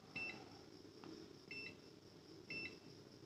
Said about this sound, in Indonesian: yang terakhir untuk penggunaan buzzer